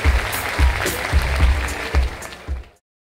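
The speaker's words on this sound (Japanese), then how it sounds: "アンソリティにも大きな拍手をお願いします。" Crowd applause for a contestant at a Japanese MC rap battle semifinal, clapping over a thumping low beat before cutting off abruptly to silence.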